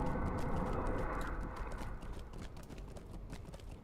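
Horse hooves clip-clop steadily in the game LoTRO, a continuous rapid patter of hoofbeats against a soft wash of background sound.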